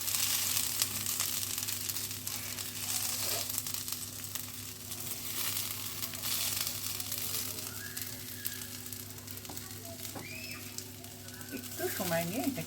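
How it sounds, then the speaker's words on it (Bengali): Rice fries in a pan for chicken tehari with a soft, continuous sizzle, low and fairly faint, with a few light scraping stirs toward the end. "এই চালটাকে খুব ভালো করে একটু ভেজে নিতে হবে।"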